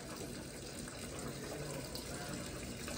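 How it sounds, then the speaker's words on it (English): Water gushes steadily into a new washing machine, a continuous hissing rush of filling liquid heard close by with no break. "The water has already started coming"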